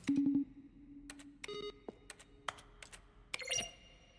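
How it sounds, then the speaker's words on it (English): A quiet series of clicky keyboard key presses, each paired with a short synthesized beep or tone, arriving at irregular intervals, in the game The Stanley Parable. "Each sound is a mix of a keyboard stroke and a synthesized tone."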